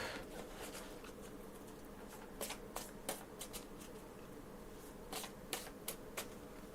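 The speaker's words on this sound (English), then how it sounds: "Oh, throw the cards out everywhere." Oracle cards are shuffled by hand, giving a soft continuous riffling patter punctuated by several sharp flicks and slaps as cards are thrown out, faint and close with no voices.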